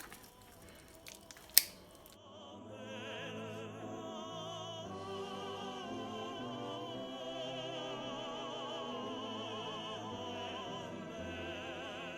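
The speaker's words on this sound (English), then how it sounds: "You lift this side like this, and then you cut to open the mesh" Kitchen scissors cut open a tilapia during cleaning. There are a couple of seconds of close, crunchy snipping with one sharp snap, then music takes over for the rest.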